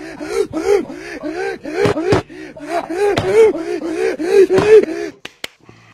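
Heavy, rhythmic breathing repeats in quick cycles of loud inhales and exhales in a YouTube Poop edit, punctuated by a few sharp slaps or knocks and ending abruptly.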